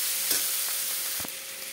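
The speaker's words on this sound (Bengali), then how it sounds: "আমার মশলাটা কষাই হয়ে গেছে, কেন কি মশলায় তেল ছেড়ে দিয়েছে" Spice paste frying in oil in a pan for a fish curry with drumsticks and potatoes, a soft steady sizzle with a brief stir or scrape near the end.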